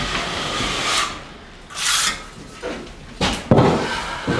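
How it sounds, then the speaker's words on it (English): A 14-inch drywall trowel scrapes joint compound along a metal corner bead, a few separate close, gritty swipes with brief pauses between them. "I just take my 14-inch trowel and go"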